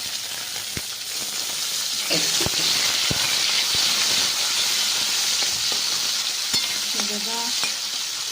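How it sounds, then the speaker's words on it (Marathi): Chopped tomatoes hitting a hot pan of roasted onions while cooking a soybean curry, giving a steady close hiss and sizzle with occasional stirring clicks and scrapes throughout. "आता मी त्यामध्ये टोमॅटो टाकते"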